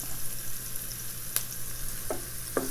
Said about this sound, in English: When the onion turns glassy, you can add the ginger garlic paste.